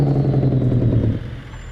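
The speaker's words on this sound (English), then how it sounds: "Oh, it's the engine brake." A Peterbilt 389 truck's engine brake gives a steady low rumbling drone heard from inside the cab, holding for about a second before easing off to a quieter hum.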